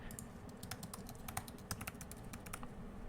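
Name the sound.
typing a password on a computer keyboard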